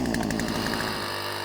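A chainsaw clears dead trees with a loud, steady high-pitched engine buzz close by, easing slightly in pitch near the end as it cuts, with no voices.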